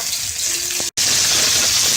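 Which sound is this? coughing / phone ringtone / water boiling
water boiling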